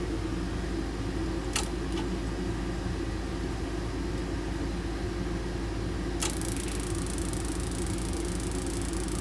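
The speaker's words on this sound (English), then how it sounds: "All right, so it's trying to ignite again." A residential gas furnace with its natural gas supply shut off tries to ignite. It gives a steady, loud mechanical hum, broken by a couple of sharp clicks and a shift in the drone.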